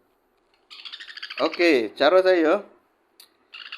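A baby sun conure gives short, high, bright chirps, a burst near the start and another at the end, close by, while someone talks softly in between.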